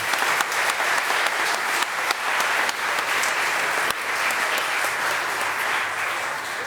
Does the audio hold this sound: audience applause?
yes